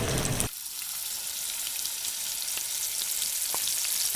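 Blanched vegetables sauté in butter with a steady, close sizzle that begins abruptly after a brief louder start and holds evenly throughout, with a couple of faint clinks.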